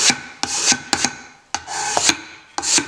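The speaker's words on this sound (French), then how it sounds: "Allez, un petit coup de racloir." A cabinet scraper is drawn across a clamped wooden workpiece, acting more like sanding than scraping, in five or six rhythmic rasping strokes that are near and clear with brief pauses between them.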